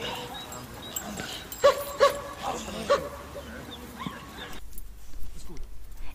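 Several short, sharp police dog barks come in a quick burst, mixed with outdoor noise and some talking, before things suddenly go quiet.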